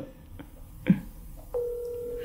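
A phone call ringing out on a mobile phone, heard as a steady electronic ringback tone that starts partway through and holds level to the end, after a few soft knocks and handling noises.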